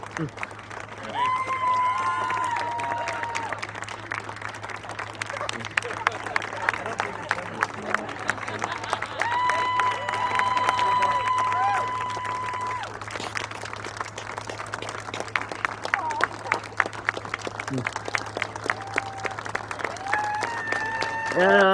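Bureaucrats clap together in a large room, a long, sustained round of crowd applause with cheering and murmured voices mixed in, swelling and thinning over time.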